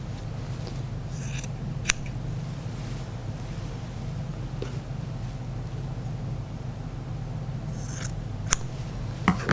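Scissors make a few crisp snips while trimming minky quilt fabric pieces, sparse and close against a steady low rumbling background.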